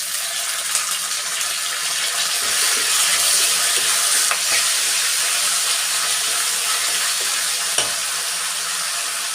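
Lemon leaves sautéing in a pan for chutney, giving a steady broadband sizzle throughout with occasional stirring scrapes and clicks, close and continuous without speech.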